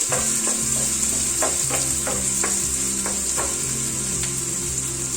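Sliced onions and a chopped green chilli frying in a pan, with a spoon stirring through them. The sizzle is loud and steady, and soft scraping and tapping stir strokes recur throughout with no voices.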